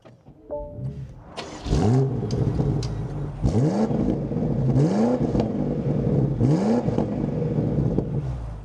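A 2025 BMW X5 M Competition SUV engine cranks and catches, then revs up in several repeated rising bursts, each settling back to a steady idle.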